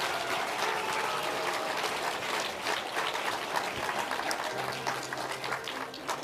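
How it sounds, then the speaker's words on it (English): An audience at the 2024 Canadian Cinema Editors Awards ceremony applauds steadily, a continuous patter of many hands at moderate, fairly distant volume that fades slightly toward the end. "Gloria, move while the people are applauding."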